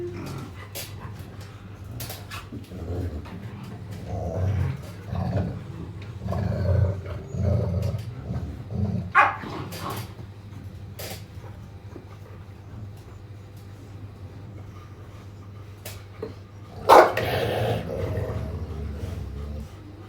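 Dogs at a shelter housing hundreds of them bark, growl and whimper in a noisy, reverberant jumble, with a few sharper barks standing out over the steady low rumble.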